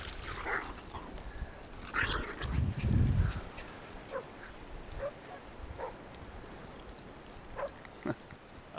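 Three Yorkshire terriers on a beach at Jekyll Island, Georgia, giving scattered faint yips and whimpers over a steady wind and surf wash, with a louder rustling burst near the middle.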